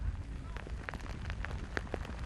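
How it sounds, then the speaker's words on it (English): Heavy downpour at an outdoor Gaelic football ground in Darver, a dense steady hiss of rain with scattered drops ticking on a nearby cover, moderately loud throughout. "Heavy downpour rain."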